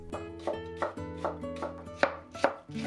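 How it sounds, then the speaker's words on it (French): A knife julienning a carrot on a cutting board, a quick regular run of about eight crisp chopping knocks, close and clear with no talking. "on passe au découpage avec la carotte que l'on découpe en julienne"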